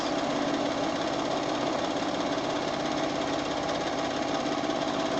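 A sewing machine runs steadily during free motion quilting, a constant rapid mechanical chatter at an even pace, close and fairly loud, with no pauses.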